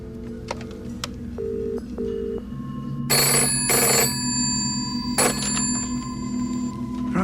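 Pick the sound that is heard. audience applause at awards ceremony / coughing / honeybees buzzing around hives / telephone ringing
telephone ringing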